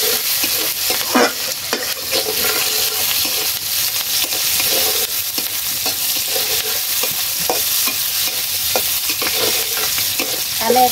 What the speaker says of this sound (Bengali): এটা দিলাম তেলে কয়টা জিরা কাঁচা লঙ্কা, কিছুক্ষণ নাড়িয়ে ছাড়িয়ে নিবেন